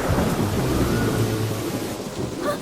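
Cartoon thunder rumbles loud and steady as rain is about to start, a deep rolling storm with a hiss of rain and wind and no voices.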